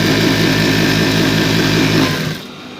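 A sewing machine stitches a men's shirt in a loud, continuous mechanical whir that runs steadily close by, then winds down and stops near the end.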